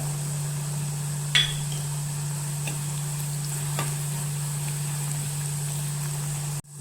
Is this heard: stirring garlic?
yes